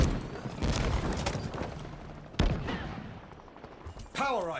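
Bursts of gunfire from a favoured weapon in the Halo Infinite beta training mode, several quick shots in close succession with sharp cracks, mixed with game effects and someone talking over the action.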